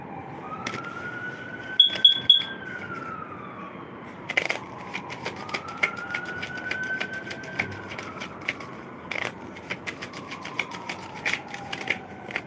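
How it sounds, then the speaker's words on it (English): A siren wails in long rising and falling sweeps, fairly distant, over a steady background with a few sharp clicks and knocks. "Hear the sirens?"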